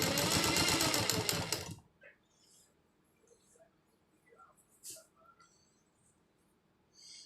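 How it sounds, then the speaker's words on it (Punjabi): A sewing machine stitches part of a bra in a fast, loud, steady burst of needle clatter lasting about two seconds, then stops, leaving faint handling noises and a quiet voice speaking. "ਇਹ ਆਪਾਂ ਦੂਜਾ ਪਾਰਟ ਵੀ ਇਸ ਤਰ੍ਹਾਂ ਸਿਲਾਈ ਕਰ ਲੈਂਦੇ"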